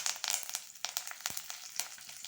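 Curry leaves hiss and crackle as they drop into hot oil with popping mustard seeds and a dried red chili, tempering for cucumber poha; close, continuous sizzling with sharp spits and pops for a couple of seconds.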